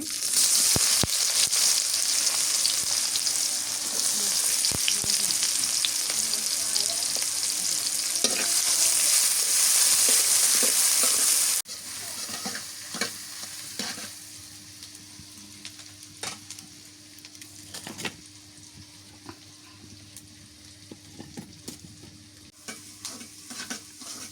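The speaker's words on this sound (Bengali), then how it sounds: "পেঁয়াজটা ভালো করে ভেজে নিলাম, পেঁয়াজ ভাজা হয়ে গেছে" Chopped onions fry in hot oil with a bay leaf and garam masala for a mutton curry, giving a loud continuous sizzle that drops sharply halfway, then quieter frying with the scrape and clack of stirring.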